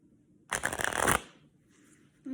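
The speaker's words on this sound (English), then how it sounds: "Oh, you don't know how to shuffle? All right, well, I'll do it for you" A deck of playing cards is riffle shuffled once, a close, crisp burst of rapid fluttering clicks lasting under a second, followed by quiet room tone and a faint tap.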